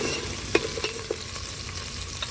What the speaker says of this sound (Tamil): பட்டை, கிராம்பு, கல்பாசி போட்டுக்கலாம். வெங்காயம் போட்டுக்கலாம். இப்போ நம்ம நல்லா வந்து வதக்கிக்கலாம்.